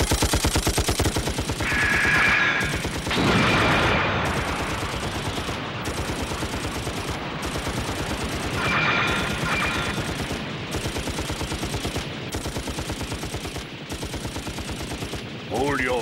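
Gunfire rattles through an anime attack scene in repeated rapid machine-gun bursts separated by short gaps, with shouted voices briefly over the shooting.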